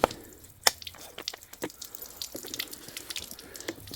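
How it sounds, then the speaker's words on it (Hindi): Water drips and splashes into a container at a forest camp at night in Uttarakhand's Jim Corbett area, irregular close trickles and taps under quiet background, no talk. "मैं क्या पहले पानी भर लेता हूँ पहले"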